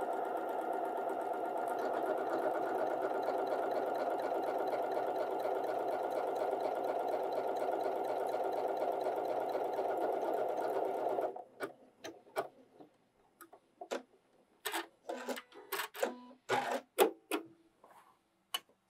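A Janome sewing machine stitches a dense, wide buttonhole with a steady, fast mechanical hum for about eleven seconds, then stops, followed by scattered light clicks and handling noises.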